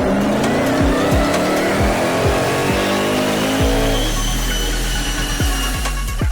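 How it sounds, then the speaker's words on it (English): A tuned Jaguar XK-GT with extra large cooler, air filters and remap, rated at 650 brake horsepower, revs hard on a dyno, loud and steady with rising pitch through gear shifts, no talking. "Now it's time for dyno run number 2 and we're hoping for some good results."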